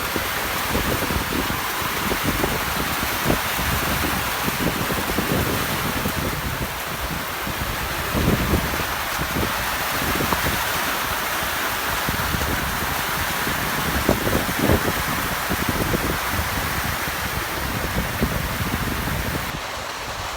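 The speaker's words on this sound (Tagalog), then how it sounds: "Grabe guys, ang lakas ng ulan. Lakas ng hangin." Dense, continuous roar of heavy rain driven by strong gusting wind near a hut, broadband and unbroken throughout, with occasional louder surges.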